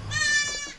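A single short, high-pitched bleat from a young goat, close and clear, lasting under a second.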